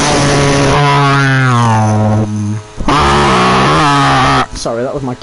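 A voice imitates a car engine with loud, buzzing revving sounds whose pitch climbs and falls across two long bursts, close to the microphone.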